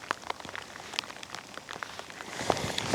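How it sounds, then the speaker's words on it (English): Rain patters on a surface beside a river, scattered drops and sharper ticks over a soft steady hiss, fairly quiet and nearby. "Proper raining now though."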